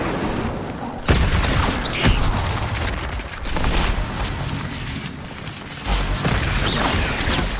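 Incendio fire spells cast in combat in the video game Hogwarts Legacy, with whooshing bursts and sharp booms over a constant loud rumble of battle sound and clattering effects.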